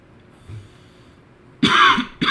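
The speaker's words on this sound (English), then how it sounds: "Pardon me for the cough." A couple of sharp, close coughs, a longer burst followed by a brief second one, after a quiet stretch.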